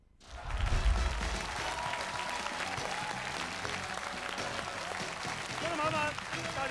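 A studio audience at a television talk show breaks into loud, sustained applause that rises quickly and holds steady for several seconds.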